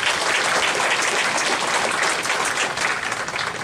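An audience at a labor activists' national debate forum claps steadily as a speaker is welcomed, with dense, loud, sustained applause filling the room and tapering slightly toward the end.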